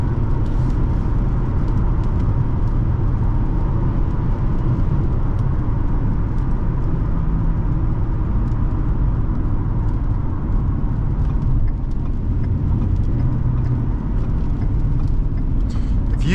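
A 2014 Ford Taurus Police Interceptor with a 3.7L engine cruising, heard from inside the cabin as a loud, steady low rumble of engine and road noise that holds evenly the whole way.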